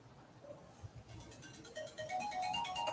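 A misplaced cell phone's ringtone starts up faint and muffled, as if from under things in a cluttered room, and climbs into a rising electronic melody over low background noise.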